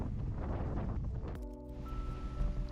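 Strong wind buffets the microphone while mountain biking along an unsheltered paved road past reeds in the Camargue, a loud, constant rumbling roar that eases midway into steadier tones.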